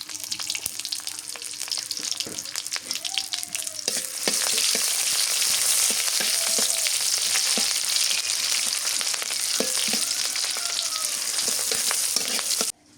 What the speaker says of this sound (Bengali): এই যে ধনিয়া পাতা দিয়ে করলা ভাজি করব সরিষার তেল দিয়ে দিই পেঁয়াজ কুচি দিয়ে দিই